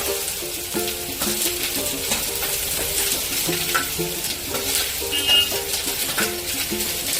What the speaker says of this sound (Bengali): তেল গরম হয়ে গেছে, এবার আমি পেঁয়াজগুলো কড়ার মধ্যে দিয়ে হালকা করে ভেজে নেব।